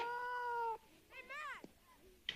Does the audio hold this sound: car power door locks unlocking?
no